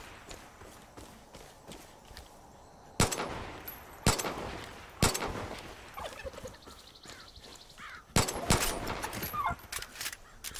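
Gunfire aimed at a turkey in Far Cry 5 rings out in four sharp, loud shots spaced about a second apart, with gobbling and rustling in the quieter stretches between.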